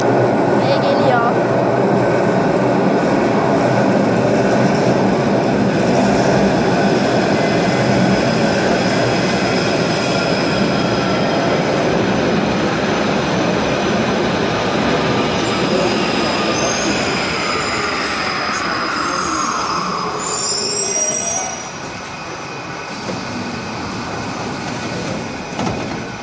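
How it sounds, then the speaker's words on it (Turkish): A tram pulls in along its rails, a long rumbling approach with wheels squealing in high drawn-out tones near the end, loud and close throughout. "Tramvayı bekliyoruz."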